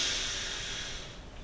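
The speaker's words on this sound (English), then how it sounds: "Just breathing in through the nose and a big long exhale out through the mouth" A slow, airy inhale through the nose during a kettlebell workout, heard close as a soft, breathy hiss that gradually fades.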